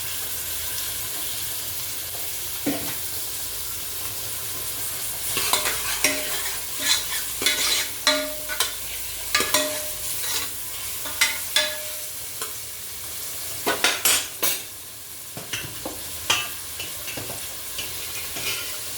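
Onions fry in a pan until browned, a constant sizzle broken by a run of rhythmic scraping and knocking stir strokes from a spoon against the pan, close and with no voices.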